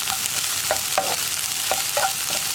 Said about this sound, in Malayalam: ഇനി നമുക്കിത് ഇളക്കി മിക്സ് ചെയ്യാം